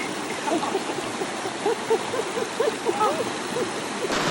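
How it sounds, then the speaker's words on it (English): Flowing river stream rushing steadily while someone wades across it, with soft splashes and a sloshing rhythm from the steps over the constant water noise, outdoors on a hike to a cave. "we're gonna cross the river now."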